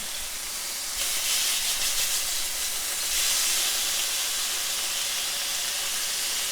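Chicken sizzles and hisses steadily in a hot pan, a broad spitting fry that swells louder after about a second and again near three seconds as pieces are flipped, with no voices over it.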